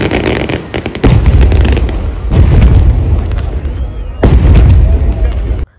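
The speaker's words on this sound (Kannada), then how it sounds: "ಮತ್ತೆ ಈ ಸೈಡ್ ಕ್ಯಾನನ್ ಫೈರ್ ಆಗಿದ್ದು ನೋಡಿ" Cannons firing a ceremonial salute at the close of Dasara, with thick smoke hanging in the air: three loud, close booms spaced a second or two apart, each ringing out over a continuous crowd din.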